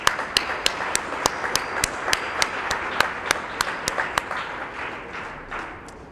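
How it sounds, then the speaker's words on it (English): An audience at a high school signing day applauds in a steady, moderately loud wash of clapping, with a few sharp individual claps standing out at a regular beat throughout. "So if you can give them a round of applause."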